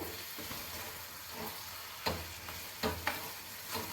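Chicken pepper fry being stirred in a hot pan, a steady sizzle with a few scraping strokes of the spoon, close and alone.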